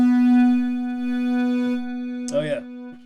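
Scream distortion effect from the DNA rack extension, heard as a sustained buzzy, harmonically rich tone that holds steady, then a short growling burst near the end, up close and loud.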